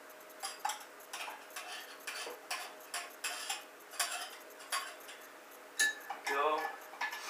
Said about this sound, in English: Stirring this together.